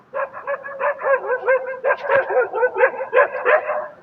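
A dog barks in a quick, rhythmic run of high yips and yelps, close and fairly loud, with no pauses over the few seconds.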